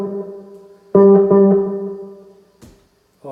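A plucked electric ukulele note runs through a delay pedal. It rings out and repeats in a few quick echoes that fade away, then a short pluck and a fresh note follow near the end.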